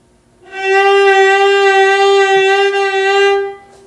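A viola holds a single full, resonant bowed note for about three seconds, its pitch swaying slowly and broadly before it stops.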